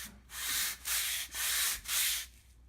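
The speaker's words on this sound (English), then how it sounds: "See, we're just going to sand it light like that." Joint compound skim coat over brick being lightly sanded by hand in four steady back-and-forth passes, a close, loud rasping hiss with brief pauses between strokes.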